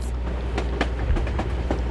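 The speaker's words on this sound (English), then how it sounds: "This tram will take me to the edge of the Volga." A tram rolling along rails in Russia in Assassin's Creed Chronicles Russia, with a steady low rumble and regular clicking wheel beats over the track joints.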